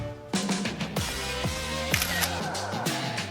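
A camera shutter clicks several times in quick succession beside a decorated selfie wall at home, sharp close snaps laid over bright background music.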